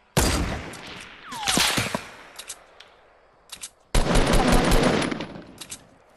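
Rifle fire in a solo-versus-squad shooter game: two long, loud rapid-fire automatic bursts, with a few scattered single shots between them.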